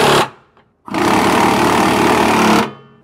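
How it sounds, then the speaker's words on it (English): An impact gun snugs down radius rod nuts on a Ford F53 chassis, a loud rapid hammering burst, then a short pause and a longer continuous rattling run of about two seconds that stops abruptly. "we're going to use our gun and just snug those down."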